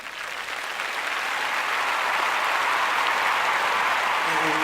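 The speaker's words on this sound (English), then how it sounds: "please give it a round of applause again" Audience applause for a radio act on a weekend show, loud and sustained, building slightly and holding steady throughout with no pauses.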